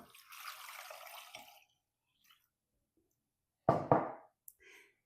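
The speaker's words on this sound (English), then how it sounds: "I'm going to add the water, and we will set these on the stove to boil." Four cups of water poured into a 6-quart pot holding potatoes give a short, close splashing rush that stops abruptly, followed after a pause by a couple of louder clunks and splashes.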